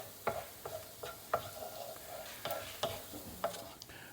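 Minced garlic and onions being stirred in a pan for a dumpling filling, soft frying sizzle under a series of sharp spoon clicks and scrapes against the pan, evenly spaced and close.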